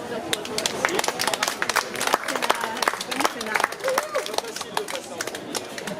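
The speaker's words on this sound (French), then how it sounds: "On peut applaudir" A small audience at an open-mic poetry evening claps after a poem, scattered individual claps close by, with murmured chatter among the listeners.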